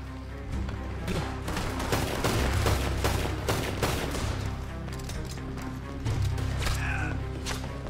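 Rapid gunfire crackles in a roleplay video game near a train station, bursts of sharp shots tumbling over one another in a dense volley that keeps going for several seconds.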